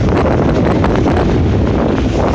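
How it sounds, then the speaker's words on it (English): Strong wind roars steadily across the microphone on a boat's bridge, a constant buffeting rush with gusty flutters throughout. "This is the bridge, and it is very windy."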